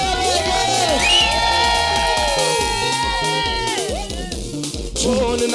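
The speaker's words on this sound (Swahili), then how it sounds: "Sijaona wapi shangwe na vigelegele." A church congregation at a lively worship service cheers and ululates, with high wavering trills and whoops rising over a continuous crowd roar and rhythmic music.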